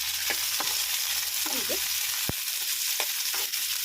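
Chopped green chillies, onion and garlic frying in a pan for ridge gourd chutney, a constant loud sizzle broken by several sharp spoon taps and scrapes against the pan.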